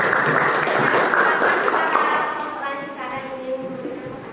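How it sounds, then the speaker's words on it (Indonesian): Applause for group 1 in a classroom lesson, a burst of clapping that thins out after a couple of seconds while voices begin talking underneath and take over. "beri tepuk tangan untuk kelompok 1"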